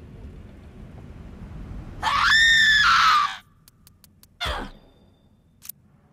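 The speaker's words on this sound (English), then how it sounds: "Could you do me a favor and scream into this cursed recorder?" In the video game Borderlands 3, a banshee lets out one loud, sustained, wavering shriek into a cursed recorder, then a sharp burst and a click follow in quiet.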